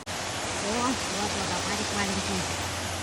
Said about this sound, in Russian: водопадик маленький